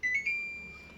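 A home air conditioner unit switching on gives two quick electronic beeps close together, then a fading tone in a quiet room.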